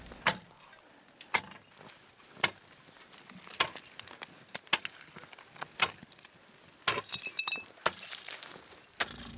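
Hard sea ice being struck and broken at minus 36 degrees to collect water, producing sharp, irregular cracking and clinking impacts with glassy splintering, fairly close and moderately loud.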